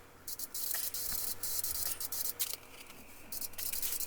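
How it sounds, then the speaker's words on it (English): An aerosol can spraying black paint onto metal parts lets out a series of short and longer bright hissing bursts separated by brief pauses. The spray is fairly quiet and no one speaks. "And we spray painted all the metal black."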